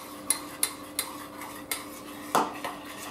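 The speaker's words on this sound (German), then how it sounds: "Honig rein. Und verrühre das." A spoon stirs honey and melting butter in a pot while making a sugar-free poppy seed and quark cake, giving five or six sharp metallic clinks against the pot at an uneven pace. Each clink is close and clear, and no one speaks.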